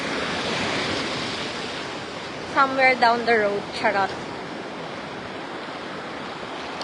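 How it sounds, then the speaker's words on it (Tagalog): Steady roar of strong surf washing onto a shore fills the scene, with a brief burst of speech partway through. "Lakas po ng alon."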